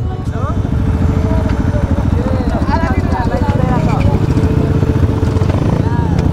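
A motorcycle ridden hard on a dirt track in Chunikhel gives a constant loud engine roar, while people talk and call out over it.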